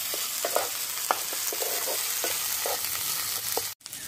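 Masala with chopped tomato and ginger-garlic paste sautéing in a pan, a soft continuous sizzle broken by light scraping stirs, with a brief cutoff near the end.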